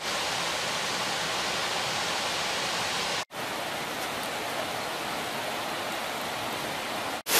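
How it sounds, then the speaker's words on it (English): A waterfall in the Brecon Beacons roars as a steady, full hiss of rushing water, close and unbroken apart from two brief cuts. "We can hear the waterfalls just to the left of us"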